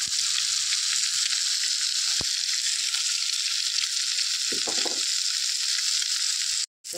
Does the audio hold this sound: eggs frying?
yes